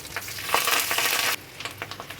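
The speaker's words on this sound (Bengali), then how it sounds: "এবার তেলে কালো সর্ষে, গোটা জিরে আর কারি পাতা ফোড়ন দেব।" Black mustard seeds, cumin and curry leaves spit and crackle in hot oil, with a bright, loud sizzle that drops off suddenly, followed by scattered pops.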